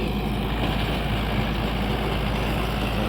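Steady low drone of a tractor engine working in a farm field, close and constant with an unbroken rumble for the whole stretch.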